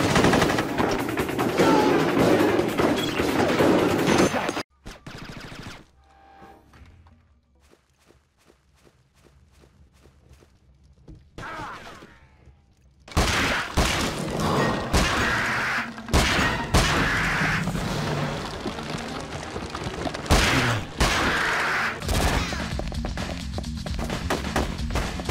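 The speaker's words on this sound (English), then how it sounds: "The machine gun fire! Stand back!" Machine gun fire from a PSP shooting video game, with loud sustained bursts that break off into a quieter stretch of scattered footsteps and clatter, then resume heavily with dense rapid fire.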